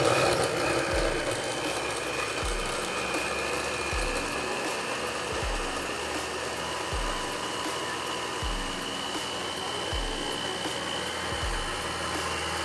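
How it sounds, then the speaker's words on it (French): A blender whirs steadily as it blends porridge, a continuous loud motor drone. Soft low thumps recur about every second and a half as the mixture churns. "On va boucher et puis on va partir pour blender."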